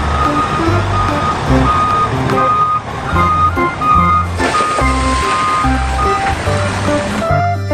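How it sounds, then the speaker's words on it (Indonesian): A toy wheel loader gives off steady, repeating electronic reversing beeps, loud and close, with a rhythmic toy motor and music-like tones running underneath. "Yang ini ada wheel loader."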